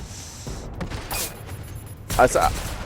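Sniper rifle fire in a video game: a couple of sharp, broadband gunshot bursts a second apart, set against game noise and background voice chatter.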